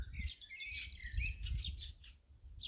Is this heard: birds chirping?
yes